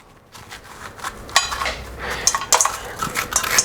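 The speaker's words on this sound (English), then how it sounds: "all we're going to do is scoop out the middle" A spoon scrapes the seeds and pulp out of a squash into a bowl: irregular, close scraping strokes with small clinks that come and go over a few seconds.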